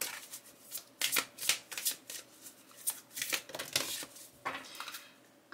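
Tarot cards are riffled and shuffled by hand in quick bursts of crisp flapping and snapping, with short pauses between the runs and no speech.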